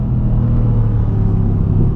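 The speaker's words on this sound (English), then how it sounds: "I was a little bit hesitant that the 4-liter twin-turbo V8 wasn't going to sound good, but man, it sounds great" A 2017 Mercedes C63 AMG S Coupe with a 4-liter twin-turbo V8, heard from inside while driving as a loud, steady, deep engine rumble with no voices.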